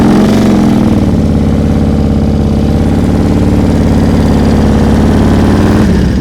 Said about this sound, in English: You heard his throttle? His throttle was up until he stopped.